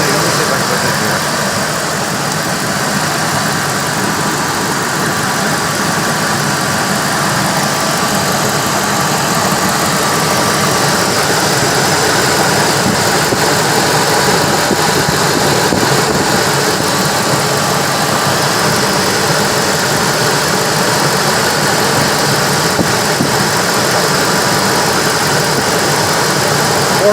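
A Ford Expedition engine idles steadily while charging, a constant mid-pitched rumble with faint vibration that holds unchanged for almost half a minute, close and fairly loud with no talk.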